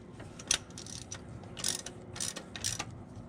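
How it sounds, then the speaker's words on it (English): A hand ratchet tightens a bolt during a solid car shifter install, heard as close, quick clicking strokes in several short bursts with no talking. "Hit it with the torque wrench, or hit it with the wrench, or ratchet, I should say."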